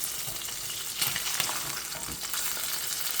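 Chicken saltimbocca sizzles steadily in a pan just after being flipped, a close, continuous frying hiss that swells briefly with a stirring scrape near the middle.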